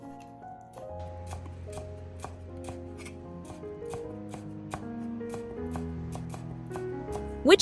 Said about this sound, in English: chop a handful of green onions to enhance the aroma